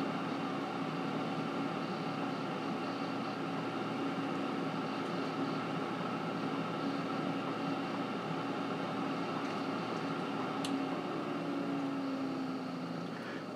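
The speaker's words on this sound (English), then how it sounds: "I wanted to capture a video so you can hear the sound of it and the speed levels it rises to and lowers to" A PowerXL Vortex Pro air fryer running, a constant whirring fan hum with steady motor drone, close and even in level, slightly easing off near the end.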